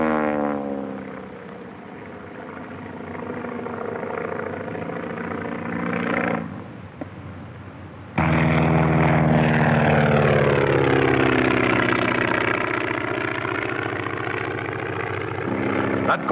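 A 1935 propeller airplane flies loops and Immelmann turns while skywriting. Its engine drones steadily with shifting pitch, dips briefly, then returns louder and closer, rising and falling through the maneuvers.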